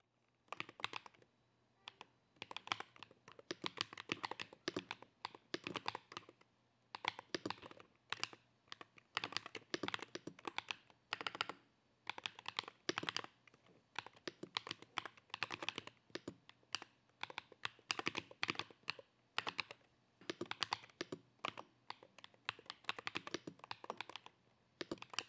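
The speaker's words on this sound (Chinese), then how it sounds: "这里给大家放一段打字声音实录" Rapid, steady typing on a Zero75S mechanical keyboard with magnetic switches, aluminum top case and PVD keycaps: dense, crisp clicks and clacks in uneven bursts with short pauses, close and clear throughout, no voices.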